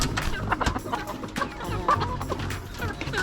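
Native country chickens cluck and chatter in short, irregular bursts over a busy outdoor background, fairly close.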